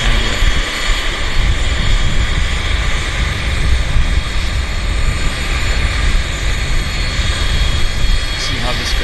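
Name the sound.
Avro four-engine jet airliner engines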